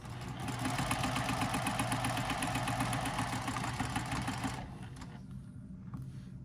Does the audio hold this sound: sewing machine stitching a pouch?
yes